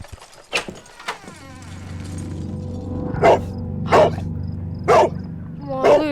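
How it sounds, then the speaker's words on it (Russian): A dog in a Sherlock Holmes game barks four times in a fairly even rhythm, loud and close, over a low ambient drone with a couple of sharp clicks at the start. "опять пёсик гавкает."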